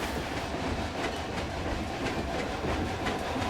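Train pulling out of a station in the theme-park game Planet Coaster 2, a continuous rumbling roll with faint clickety-clack wheel rhythm, steady and moderately loud.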